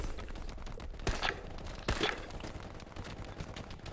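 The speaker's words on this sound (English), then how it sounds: "I can give you a bit of cover with the machine gun." Machine gun fire in the WWII shooter Hell Let Loose, with two sharp bursts standing out over a steady din of battlefield gunfire and noise.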